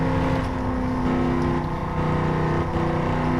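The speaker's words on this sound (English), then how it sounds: "once that turbo kicks in, it's spooling and it's hitting hard" Turbocharged 2013 Dodge Viper GTS engine pulling hard under acceleration, a loud, steady, continuous drone with dense harmonic tones and no pauses or voices.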